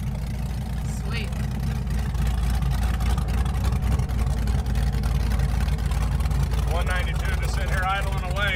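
Cammed 4.8L LS V8 in a burnout truck idling steadily with a loud, lumpy low rumble throughout, while people talk over it.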